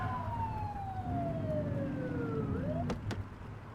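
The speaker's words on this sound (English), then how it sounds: "Get on their tail and flip the siren." A police car siren in The Precinct video game sweeps in long descending wails over a low engine hum, loud and close, ending in a couple of sharp clicks, with no talking.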